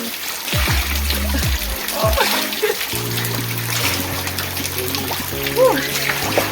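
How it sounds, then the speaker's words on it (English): Water splashes and trickles at a bath fountain, running steadily under lively nearby voices that talk throughout. "And you turn on the water."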